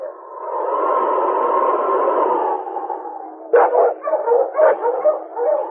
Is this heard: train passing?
no